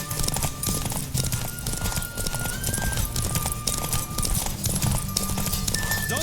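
Rapid rhythmic hoofbeats of a galloping horse in the video game The Witcher 3: Wild Hunt, loud and close, with a whinny and faint game-like tones layered over the pounding.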